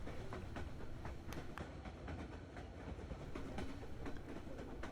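A White Pass railway train near Skagway, Alaska rolls along the tracks with a steady rumble, broken by irregular clicks and clacks from the wheels passing over rail joints.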